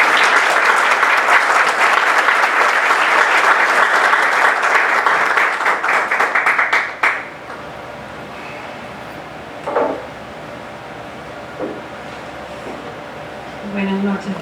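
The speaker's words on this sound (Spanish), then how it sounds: "a quien le pido que le demos un fuerte aplauso." Audience applause at an evening book launch for an arbitration library volume, a dense, loud burst of many hands clapping for about seven seconds that stops abruptly, followed by room quiet with a few faint knocks and shuffles.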